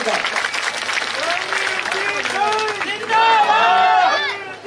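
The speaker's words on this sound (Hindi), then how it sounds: "जोरदार तालियां स्वागत करें इनका" Applause welcoming a guest at a Hindi-speaking gathering, a crowd clapping steadily while voices chatter and call out over it, the clapping growing a little louder toward the end.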